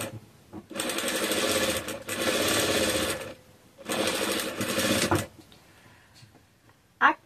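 A sewing machine stitches an Easter fabric bag in three sustained runs of rapid mechanical whirring, close and loud, with short pauses between and a sharp click near the end.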